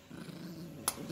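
A Yorkshire Terrier puppy gives a low, steady growl while tugging at a teddy bear toy, close to the microphone and fairly quiet, with one sharp click-like burst near the end.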